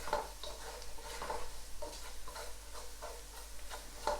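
Ginger, garlic and onion are stirred with curry powder in a pot, a soft steady scraping and light sizzle with occasional spoon clicks against the metal, quiet and continuous.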